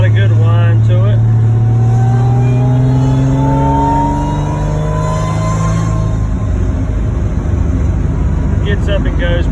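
A supercharged Thunderbird SC engine whines as the car accelerates, loud and close, with the pitch climbing steadily across the whole stretch and a constant rumbling drone of road and engine underneath.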